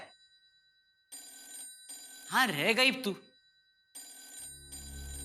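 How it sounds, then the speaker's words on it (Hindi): A telephone rings in repeated bursts of electronic trilling, with a voice speaking briefly between the rings. "फोन बज रहा है।"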